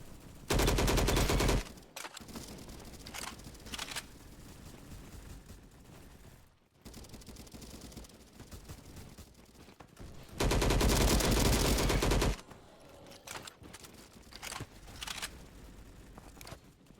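An LMGX light machine gun in the Bad Business video game fires two long, loud sustained bursts separated by quieter stretches of scattered shots and movement noise.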